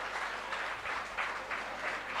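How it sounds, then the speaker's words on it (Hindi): Faint, distant applause rises and falls in gentle waves for a couple of seconds, clapping for successful SSC CPO exam candidates, with no clear talking. "मैं उन बच्चों के लिए स्पेशल तालियां बजाना चाहता हूं"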